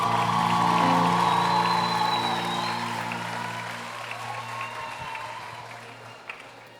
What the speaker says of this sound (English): Please welcome her with a thunderous applause on stage.